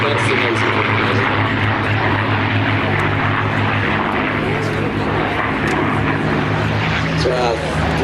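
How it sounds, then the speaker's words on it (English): A three-ship formation of P-51D Mustangs flying an aerobatic routine at the Sywell Airshow in 2024 produces a continuous, heavy propeller drone. A commentator talks over the engine noise. "our 3 ship of P-51s putting on quite a dazzling performance in their aerobatic routine"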